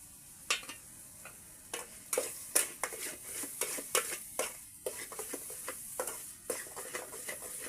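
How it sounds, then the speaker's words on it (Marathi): Onion and coriander paste for chicken curry being sautéd in a pan, a soft steady sizzle broken by repeated sharp scrapes and clicks of a spoon stirring against the metal, close and fairly quiet. "मस्त पैकी आहे ना कांदा कोथिंबीरचं वाटण पण परतून घेऊयात त्याला"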